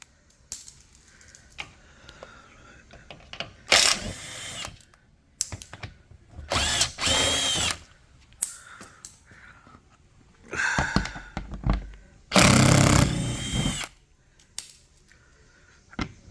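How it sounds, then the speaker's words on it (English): Power tool with a 10mm socket removes bolts under a Mercedes R Class, whirring in several loud bursts separated by quiet gaps and small clanks, close by, with no talking. "once below the car, you get your 10mm socket. So you get all these bolts out of the way."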